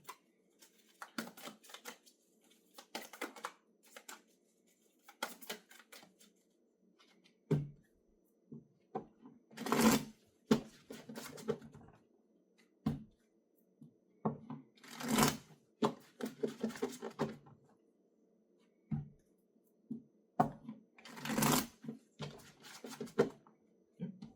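Tarot cards are shuffled in repeated bursts of riffling and flicking, with quiet pauses between the bursts, close and fairly soft, and no talking.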